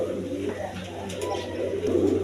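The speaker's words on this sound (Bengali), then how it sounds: "সিলভার কালার রাসগোল্লা কবুতর।" Silver-coloured Rasgolla pigeons coo softly and steadily over a low background hum, up close and continuous.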